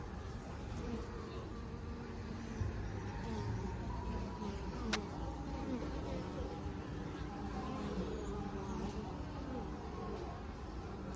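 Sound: honey bees buzzing around beehives

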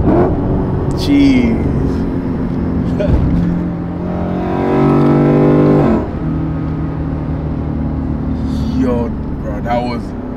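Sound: 450hp Lexus ISF accelerating with downshifts

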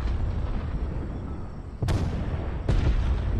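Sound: tank cannon fire in a video game

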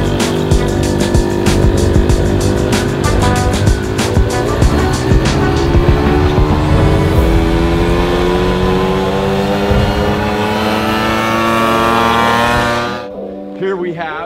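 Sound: Honda Motocompacto and Motocompo folding scooters riding

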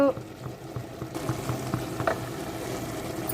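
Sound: basmati rice pulao boiling in pot

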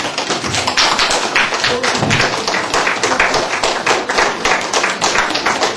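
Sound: applause from children and audience at a celebration

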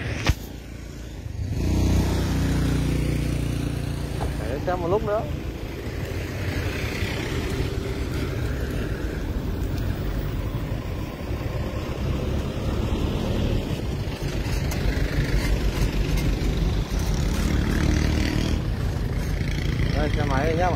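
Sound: motorbikes passing by on road

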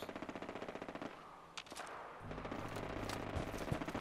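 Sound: explosive sniper rifle firing in video game Fallout 4

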